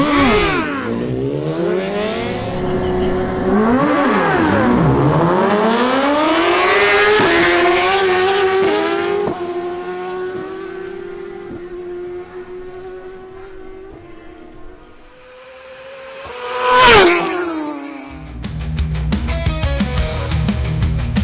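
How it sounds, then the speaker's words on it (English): Two Suzuki GSX-R1000 sport motorcycles launch side by side at a drag race, engines screaming up through the gears with rising and falling revs, then a loud close pass near the end before the roar settles. "Next, we have a duel between two Suzuki GSX-R1000s"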